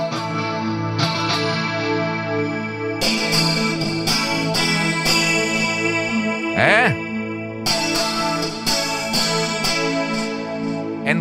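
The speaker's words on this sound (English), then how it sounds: "there is a part of the signal that bypass the cabinet block, and this is the result." Electric guitar played through a Fractal Audio FM9 modeler with part of the signal bypassing the cabinet block, giving sustained distorted chords with bright fizzy highs, a brief pick slide in the middle, steady and loud with no talking.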